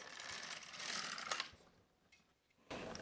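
A knitting machine carriage is pushed across the bed, giving a soft mechanical clatter and whir that fades, then a brief renewed rattle near the end, quiet and close.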